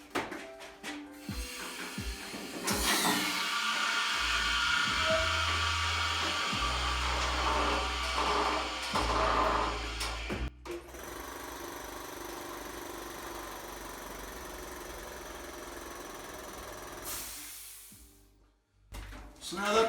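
A DIY airbag-actuated motorcycle lift inflating to raise a clamped bike gives a long steady rushing blower-like hum that holds for most of the stretch before cutting off, close and fairly loud in a workshop.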